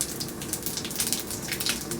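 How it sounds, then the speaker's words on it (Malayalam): Fennel seeds spluttering in hot oil in a pan for a vegetable kurma, a dense, steady crackle of fine pops with no voices. "നമുക്ക് ഇതിനകത്തേക്ക് പെരിഞ്ജീരകം, ഒരു 1/2 ടീസ്പൂൺ പെരിഞ്ജീരകം ചേർത്ത് കൊടുക്കാം"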